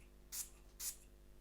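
Two quick hissing spritzes from a perfume atomizer of Paris Corner fragrance, each short and airy, close and fairly quiet, spaced about half a second apart.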